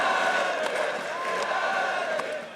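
A large arena crowd at a League of Legends esports match between Fnatic and Origin keeps up a sustained roar of cheering, dense and continuous throughout.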